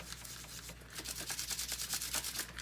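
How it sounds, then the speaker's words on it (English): A brush scrubs an ionic foot detox array clean, rhythmic close rubbing strokes repeating steadily and fairly quietly with no talk. "we just keep brushing both sides really well."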